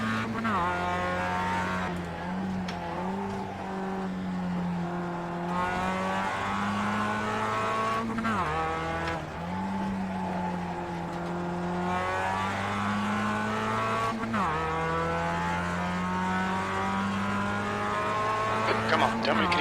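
A Mazda MX-5 race car in iRacing at the Okayama short circuit drones at steady close engine pitch, dipping and climbing through gear changes and cornering, continuous throughout.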